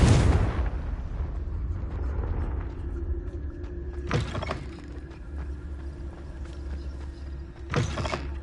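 Hogwarts Legacy's Confringo blasting spell goes off in a loud opening burst, followed by two more sharp blasts later over low ambient game sound.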